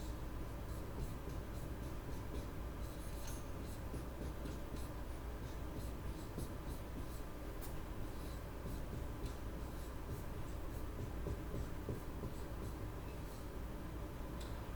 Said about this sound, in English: let me write this on the board too